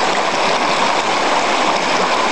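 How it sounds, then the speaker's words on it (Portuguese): The Ribeirãozinho waterfall on the Tocantins River, a close, loud, continuous rush of falling water with a broad, even hiss and no pauses. "Esta aqui é a cachoeira do Ribeirãozinho, Rio Tocantins."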